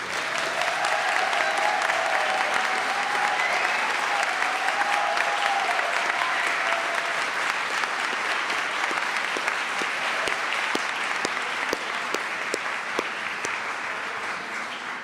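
Sustained audience applause at a college award ceremony for the Class of 2025, a dense, steady wash of many hands clapping throughout, full and fairly close, with a faint voice briefly audible early on.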